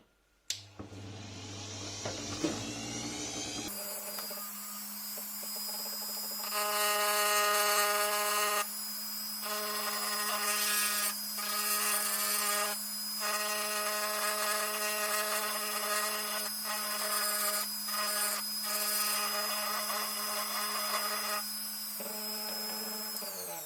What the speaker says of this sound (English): I'll be using the Dremel next to make a groove and then fill that